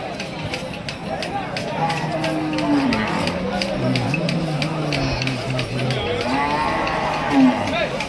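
Bulls lowing at the Ranebennur cattle market on a Sunday morning, long drawn-out moos rising and falling amid the general murmur of the crowd, with people talking nearby.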